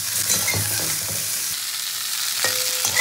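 Broccoli frying lightly in a pan, a steady soft sizzle with occasional stirring scrapes and clinks, close and without talk.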